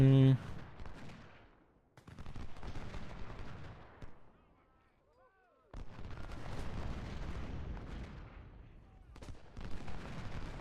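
Booming artillery and crackling musket volleys from the Battle of Cold Harbor in the Civil War strategy game Ultimate General: Civil War come in rumbling waves with a quiet lull in the middle, moderately loud and close.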